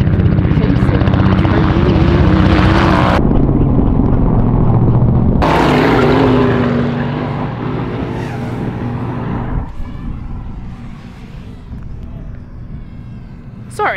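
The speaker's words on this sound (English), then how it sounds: "Right here, there is actually a chopper chasing." A helicopter chasing an off-road race at the Mint 400 gives a loud, throbbing rotor and engine roar up close, then fades as it moves farther away, with voices heard alongside.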